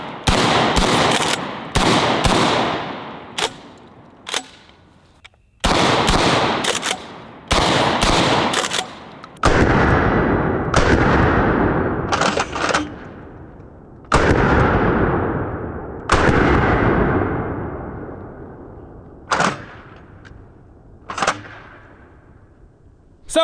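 DP-12 double-barrel shotgun firing outdoors: loud, close blasts, some in rapid pairs and quick bursts, others spaced singly, each followed by a decaying echo across the range.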